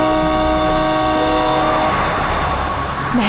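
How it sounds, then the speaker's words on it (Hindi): A vehicle horn sounds in long sustained blasts on an empty road in a Hindi crime drama scene, loud and close and continuing almost unbroken throughout, with traffic noise underneath. "हॉर्न पे हॉर्न मार रहा है"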